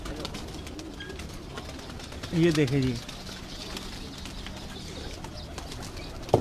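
Pigeons coo in a short burst on a Lahore rooftop loft kept by a pigeon fancier, the soft throaty calls rising briefly over steady background noise while someone talks nearby.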